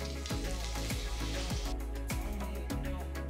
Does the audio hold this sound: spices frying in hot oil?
yes